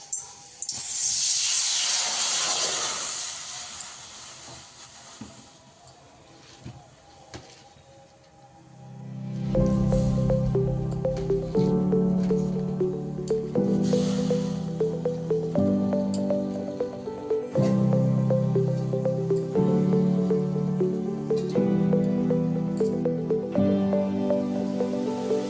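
Spinach leaves simmer briefly in a pot of boiling water. A steady steamy hiss and bubbling are clear at first, then sit faint beneath louder background music for the rest.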